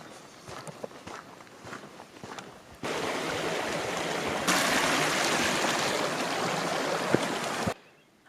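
Steady broadband rush of flowing creek water on a mountain trail, growing louder partway through, with footsteps crunching in the first few seconds before the water takes over.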